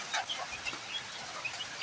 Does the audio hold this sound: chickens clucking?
yes